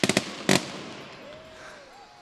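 Fireworks burst at a holiday parade and Christmas light-up celebration in Joliet, a quick run of three sharp cracks, then a louder crackling cluster, fading into a faint whistling tail over crowd noise.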